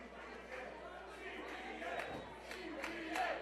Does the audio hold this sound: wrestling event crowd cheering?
yes